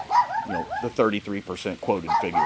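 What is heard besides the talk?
small poodle barking in the background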